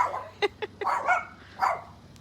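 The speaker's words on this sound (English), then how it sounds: "That's my dog Chewy back there, you see him?" A dog barks in the background, giving a few short, sharp barks in quick succession followed by softer yips, fairly near and with no talk over it.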